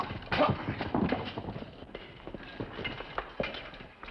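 Several horses galloping over open ground in a 1953 western TV drama, a brisk uneven clatter of hooves fairly close and loud, with no talk.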